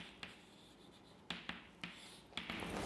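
A pen writes out a chemical reaction on paper during a chemistry solution, with faint scratching strokes and several sharp taps spaced through a quiet background.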